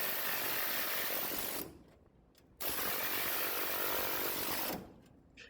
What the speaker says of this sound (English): we'll let the air hammer do the rest